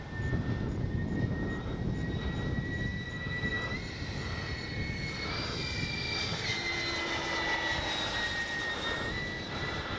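A Freewing AL37 RC jet flies overhead with a steady, whining electric ducted-fan roar that shifts in pitch as it passes, heard outdoors against wind noise without speech.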